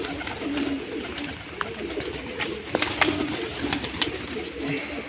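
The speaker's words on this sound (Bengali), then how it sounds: "পায়রা হু করে ঘরে চলে যাচ্ছে" Domestic pigeons coo repeatedly as they head back into their loft, with soft wing flutters and scattered clicks close by over a low outdoor background.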